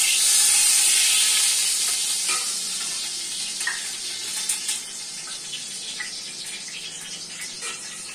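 Water poured into a hot pan of browned onion, tomato and chicken sizzles with a loud burst of hiss and steam that slowly eases, with faint stirring clinks, and no one speaks.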